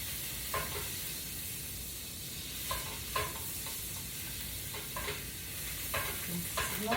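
Squeezed garlic sizzling in melted butter in a pan, a steady close hiss with periodic stirring scrapes every second or so, no voices over it.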